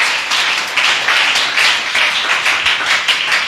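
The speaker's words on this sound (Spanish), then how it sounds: "dale un aplauso al Señor." A church congregation applauds together, a steady wash of clapping lasting several seconds at close, fairly loud level with no talking.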